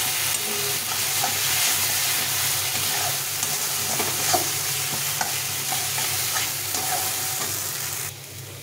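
Spices and a little sugar sautéing in a hot pan, with a continuous steady sizzle and the repeated scrape and clatter of a spatula stirring close by, and no talking.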